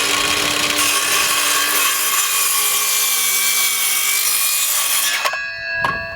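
A hand saw cuts through a 4x4 wooden post in steady, rapid rasping strokes. The sawing is loud and close, then stops near the end with a few light knocks.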